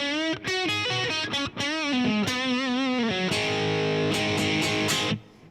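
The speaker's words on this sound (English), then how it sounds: "that sounds like some type of, fuzz pedal type distortion" An electric guitar played through a Fender GTX 100 amp on a fuzz-pedal-style distortion setting, with sustained buzzy chords and single notes ringing out loud and alone before cutting off at the end.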